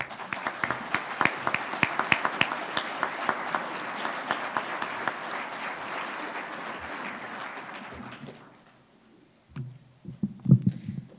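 An audience at a Veterans Day program applauds with steady, dense clapping that carries on for several seconds before fading out, followed by a few faint sounds and voices.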